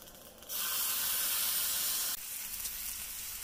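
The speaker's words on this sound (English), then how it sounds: "now we're just going to fry them up." Bacon-wrapped walleye cheeks dropped into a pan on the ice while winter camping, a sudden broad sizzle that swells loud for under two seconds, then settles to a quieter steady frying hiss.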